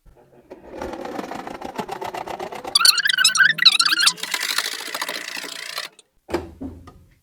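A domestic sewing machine runs in one steady burst of stitching through shirt fabric, locking the seam with a short run of stitches. The motor and needle whir sound close and loud for about three seconds and then stop, with soft voice-like sound before it.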